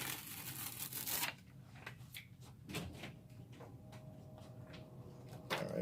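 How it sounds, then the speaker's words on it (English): Sublimation glitter vinyl backing is peeled off for a black hoodie: an initial sharp tearing rip, then quieter intermittent crackly peeling sounds, close and isolated. "Once you split it, you just peel it off."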